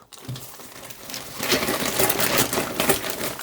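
Plastic packaging holding winter sneakers from AliExpress being handled and torn open, crinkling and rustling that start quietly and grow into dense, close, irregular crackles.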